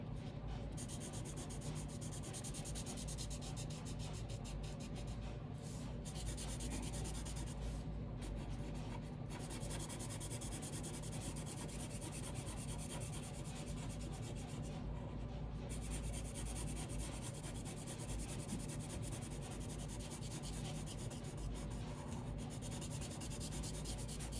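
A marker or pencil scratches across paper while an animal outline and snow globe scene are drawn and colored, a soft continuous scraping with brief pauses, close and quiet, with no talking.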